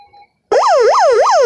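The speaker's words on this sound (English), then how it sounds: "I wonder how to do a siren test on this when it switched to siren" A WeatherX WR383R weather radio bursts into its siren alert after a short pause, a loud, close electronic wail rising and falling in quick repeating sweeps.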